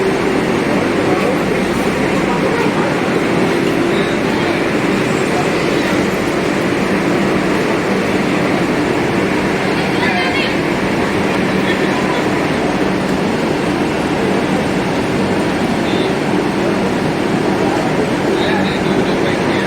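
A Vande Bharat train, India's fastest, stands at platform 1 of New Jalpaiguri station, giving a steady, even rumble and hum of train and platform noise that holds constant throughout with no distinct events.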